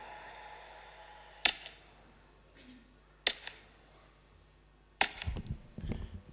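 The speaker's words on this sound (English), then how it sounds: "So we measured the volume of the sound that the gun makes, and then put a suppressor on it. The Colt 32 with a wet suppressor." Three sharp gunshots from a Colt .32 pistol fitted with a wet suppressor crack out at spaced intervals, each a short loud snap with a brief tail, in a quiet room with faint movement noises between.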